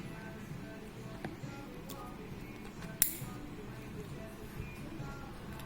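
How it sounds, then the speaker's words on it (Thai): A single sharp click sounds as a fiber optic cable connector snaps into the side port of a GLK 500C OTDR tester. It is brief and fairly quiet over faint room hiss, with soft speech around it. "ก็ทำการเสียบสายเข้าด้านข้างตรงนี้ได้เลยนะครับ"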